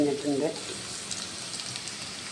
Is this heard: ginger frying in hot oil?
yes